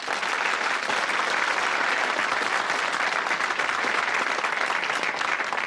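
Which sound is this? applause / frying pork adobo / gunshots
applause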